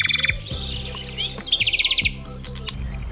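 A nightingale sings a rapid series of bright chirps and trills, with a steady, tonal backing underneath. It is clear and fairly close, with no talking.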